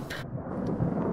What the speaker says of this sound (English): Yeah, it's thunder